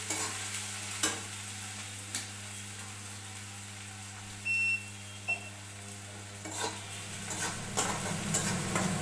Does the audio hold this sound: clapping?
no